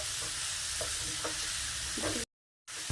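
Vegetables and mushrooms sautéing in hot oil over a high flame give a steady, close sizzle with occasional stirring scrapes, broken by a brief cut to silence near the end.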